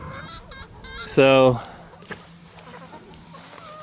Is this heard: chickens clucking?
yes